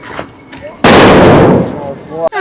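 A firecracker bursts during Diwali with one sharp, loud bang that decays over about half a second, followed by a short crackle, with people talking around it.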